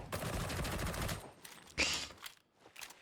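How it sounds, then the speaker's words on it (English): Darktide's auto shredder pistol fires a fast, dense automatic burst for about a second, followed by a few sharper isolated cracks and scattered impacts, close and loud with no talk. "pull out the auto shredder pistol and absolutely decimate them"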